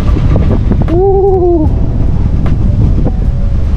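Strong wind buffeting the microphone at a scenic outdoor viewpoint, a loud continuous rumbling roar with a brief whistling tone partway through.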